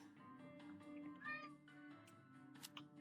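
Cats in the video game Fallout 76 meowing several times in quick succession, fairly faint and close, with light game background.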